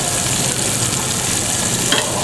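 Shrimp sautéing in a frying pan, a steady close loud sizzle and crackle of hot oil running without pause.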